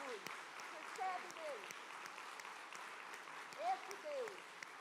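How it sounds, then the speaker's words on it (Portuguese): A church congregation applauds in steady, sustained clapping, with a preacher's voice and a few shouts rising over the applause. "dê uma salva de palmas ao Senhor"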